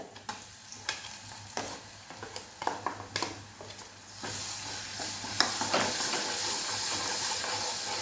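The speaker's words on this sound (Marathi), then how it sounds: "छान फ्राय करून घ्यायचा आहे मसाला मंद असेवर मी फ्राय करणार आहे" Homemade masala frying in a pan on low heat for thick mutton gravy: sharp spoon clinks while stirring give way to a steady, loud sizzling hiss that continues to the end.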